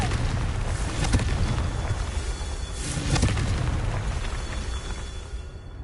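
Confringo spell blasts in Hogwarts Legacy, two loud rumbling explosions about two seconds apart over a continuous roaring wash of noise.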